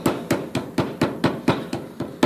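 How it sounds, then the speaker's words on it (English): A hammer strikes a part from an Atlas lathe's Quick Change 42 gearbox nine times in a steady rhythm, each sharp, close metallic tap decaying quickly before the next. "I'm using the hammer to cut this."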